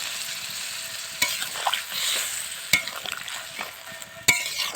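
Eggplant curry sizzling steadily in a pan after a little water is added, with a broad frying hiss throughout and a few sharp clicks of a spatula stirring against the pan.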